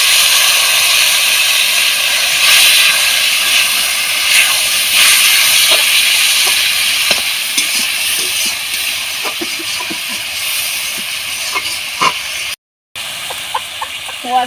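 Water poured into a hot pan with cumin powder, a loud broad hiss of steam that slowly fades over many seconds, with scattered clinks and a short gap near the end.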